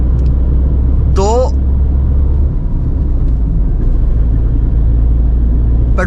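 A 2022 Tata Tiago CNG car engine running on petrol hums steadily at low pitch from inside the cabin, a constant rumble with a brief higher tone near the start.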